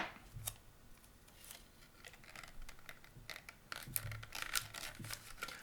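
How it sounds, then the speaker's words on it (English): Adhesive tape is pulled and torn off while wrapping drinking straws together for a homemade pan flute, giving a few short scratchy rips and crackles at close range. "Break off this tape."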